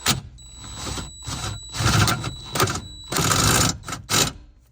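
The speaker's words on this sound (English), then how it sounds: "if you have an electric little bit driver like this" A small electric bit driver removes bolts on a Chevy pickup during a hydroboost brake conversion, whirring in repeated short bursts of about a second each, separated by brief pauses, loud and close.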